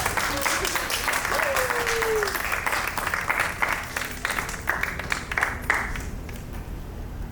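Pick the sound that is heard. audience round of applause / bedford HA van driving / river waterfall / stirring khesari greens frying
audience round of applause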